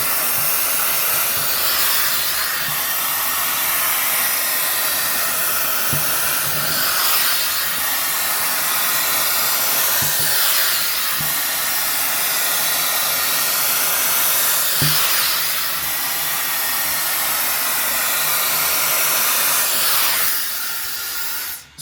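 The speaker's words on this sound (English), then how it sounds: "Let me go ahead and turn on the vacuum portion of this" A loud, steady whooshing hiss of a portable vacuum steamer runs continuously, with faint periodic bumps as it is moved along.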